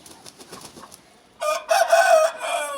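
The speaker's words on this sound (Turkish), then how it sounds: "Horoz bu." A rooster crows loudly and close by, a long strained call following some quieter clucking and rustling.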